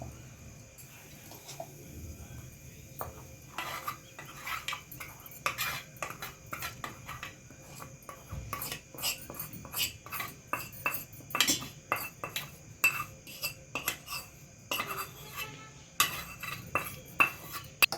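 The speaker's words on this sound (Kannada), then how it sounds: "ಒಗ್ಗರಣೆ ಇವಾಗ ಚಟ್ನಿ ಪುಡಿಗೆ ಮಿಕ್ಸ್ ಮಾಡ್ತೀನಿ." A spoon clinks and scrapes against a bowl as hot tempering is stirred into homemade chutney powder, with irregular metallic taps that grow busier and louder throughout.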